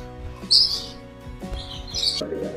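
Birds chirping inside a zoo aviary with perches, bright high tweets in two short bursts over a steady background hum, moderately close.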